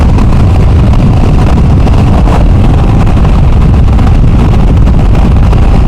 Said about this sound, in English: you can hear at 50 miles an hour a lot more wind noise